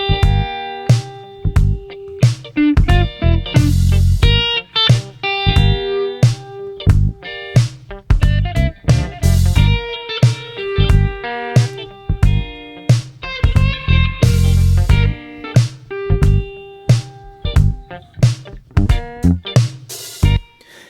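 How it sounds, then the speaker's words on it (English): Two guitar parts in a simple, effective song arrangement, one panned left and one right, play a busy, loud strummed and picked pattern with rhythmic accents, largely dry of reverb and with no voices. "you'll hear these two guitar parts are directed to the left and right sides."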